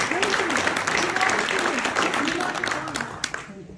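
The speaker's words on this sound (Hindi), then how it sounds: "तो भरपूर तालियां बजाएंगे एहसान भाई के लिए" Dense, loud applause from a crowd at an Urdu poetry recital at an Eid Milan mushaira, sustained and even, with voices talking underneath, tapering off near the end.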